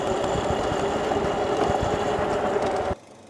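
A 4000W electric drift trike pulls hard under partial throttle, giving a loud, steady whirring drone with a dense rattle from the drivetrain and frame. It holds at one level for about three seconds, then cuts off abruptly to quiet.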